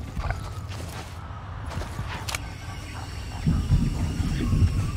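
Snorting, grunting demon pig creature in the Fortnite video game, a rough low rumble that swells louder near the end over a noisy, storm-like game background.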